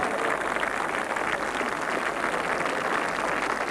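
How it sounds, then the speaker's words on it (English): Golf gallery at the 1977 Open Championship at Turnberry applauding steadily after a Nicklaus shot, a dense, even clapping that holds at full level for the whole stretch with no voices over it. "That's good applause."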